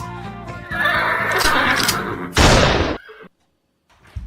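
A horse neighs loudly and alone in a comedy noir sketch, a long whinny followed by a sharp burst, then silence with a faint sound returning at the end.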